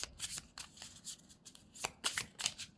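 Oracle cards are shuffled in several quick bursts of riffling, close and fairly quiet, with no talk over them.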